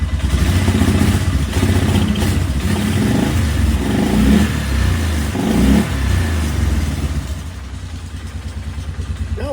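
A four-wheeler ATV engine runs close and loud, rising and falling through several revs with mechanical clatter before settling toward a slightly high idle.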